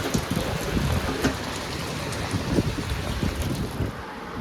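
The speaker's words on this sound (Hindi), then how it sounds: "तगड़ी बारिश के साथ और तगड़ी आंधी के साथ" Heavy rain pours steadily alongside strong, gusting wind that buffets the microphone, producing a dense, continuous roar.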